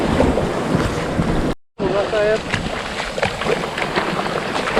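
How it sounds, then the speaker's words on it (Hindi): Big ocean waves roll and crash onto Agonda Beach in Goa, a loud continuous surf wash broken by a brief dropout, with faint voices mixed in. "ये देखो ये बड़ी बड़ी लहरें,"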